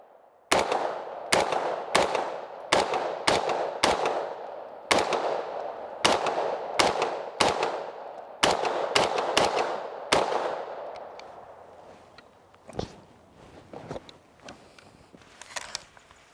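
An Extar EP9 Gen2 pistol firing Federal ammunition: a quick string of about fifteen sharp, loud shots at an uneven rhythm, each with a short ringing decay, then a pause and a few scattered later shots.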